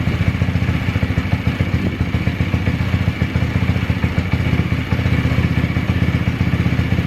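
A pit bike engine idles and warms up after the bike fell on its side, a steady loud close-up putter with constant mechanical clatter and no speech.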